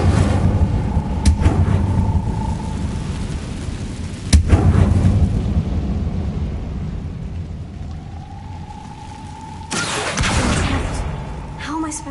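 The Incendio fire spell is cast in Hogwarts Legacy, with a sharp burst of fiery whoosh and impact effects over a rumbling game soundscape, plus a few other spell blasts.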